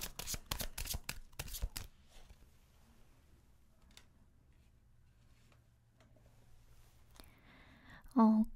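Tarot cards are shuffled in a quick, close run of crisp riffling flicks, followed by a long quiet stretch with faint handling sounds and a short tonal sound at the very end.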